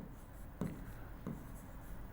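Chalk or marker writing on a board during a Hindi maths lesson, faint scratchy strokes with a couple of sharper taps, quiet and close.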